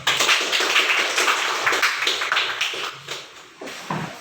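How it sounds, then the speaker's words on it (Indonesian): A group of people in a classroom claps their hands, a close, brisk flurry of overlapping claps that thins out toward the end. "Tepuk tangan."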